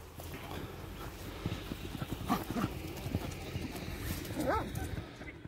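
Hooves of a very tall Orlov trotter horse, a prized buzkashi mount, clop in a quick uneven rhythm nearby, with voices talking and a brief call over the footsteps.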